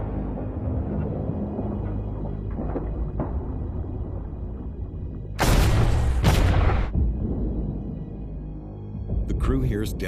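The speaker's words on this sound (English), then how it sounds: "crew hears depth charges detonate." World War II depth charges detonating underwater: low rumbling noise is broken by a sudden loud burst of detonation lasting over a second, with a second, fainter burst near the end.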